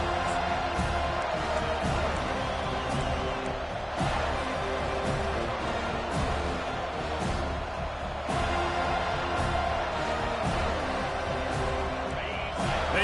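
Dense football stadium crowd roaring and cheering continuously at a college game between Texas A&M and Florida State, a steady wall of noise with sharp bursts and whoops rising throughout.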